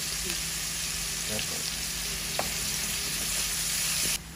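Steady close sizzle of onions frying in hot oil in a wok, with a few faint stirring knocks.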